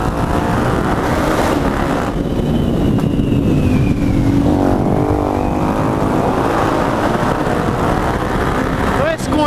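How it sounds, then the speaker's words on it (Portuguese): An R90 motorcycle engine roars loudly inside a tunnel, a sustained, heavy drone with echoing reverberation and slight pitch changes, with no gaps throughout. "na night fazendo barulho no túnel"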